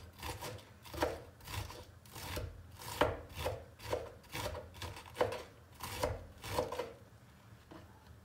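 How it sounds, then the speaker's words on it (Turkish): A knife chops lettuce in a home kitchen: about a dozen crisp, rhythmic cuts, close and fairly quiet, with no talking. "Marullarımızda doğradık bu arada."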